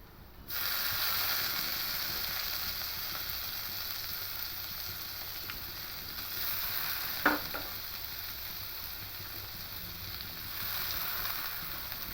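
Grated watermelon rind, squeezed of its water, is stirred in a pan with a steady, soft sizzle throughout and one sharper scrape near the middle.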